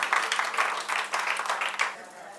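An audience claps for the honoured older women at a French-language ceremony, with dense, steady applause that stays fairly close and even for over two seconds before thinning slightly.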